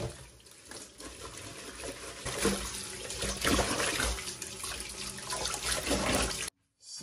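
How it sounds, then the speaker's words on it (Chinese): Fresh scallions are rinsed under a running kitchen tap, a steady close splash of water over the greens that stops abruptly near the end. "我们摘一把小葱，然后来给它清洗干净"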